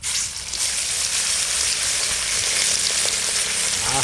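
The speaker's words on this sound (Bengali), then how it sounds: "তাহলে ভাজাই হোক একসঙ্গে" Hilsa fish pieces fry in hot oil in a village kitchen, a loud, dense, continuous sizzle with a faint spatter, steady and close throughout.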